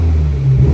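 A BMW 420i M Sport xDrive coupe fitted with a 440i exhaust, heard from inside the cabin as a short, loud engine blip, a deep low rumble swelling briefly.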